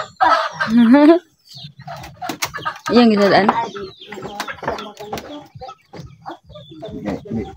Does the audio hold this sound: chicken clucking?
yes